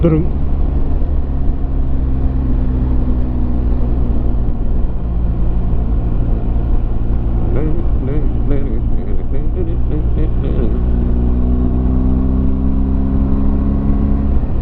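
A buzzy BMW R 1250 GS motorcycle engine holds high revs continuously, loud and near, with steady wind rumble underneath.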